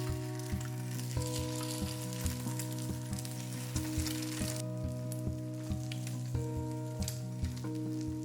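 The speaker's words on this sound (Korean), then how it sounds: "햄버거 안에서 노른자가 흐르지 않도록 노른자를 터뜨려서 완숙해 줍니다" An egg fries in an oiled pan for a tteokgalbi burger, a steady close sizzle with light crackling, joined by a regular ticking rhythm in the background and no voices.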